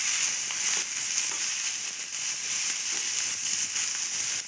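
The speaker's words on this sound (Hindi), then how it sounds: "तापरे मु काटिकी रखिथिबा 2टा पियाज मु ए तेल रे पकईदेली" Two chopped onions frying in hot oil in a pan, a steady close sizzle with faint crackles and no talk.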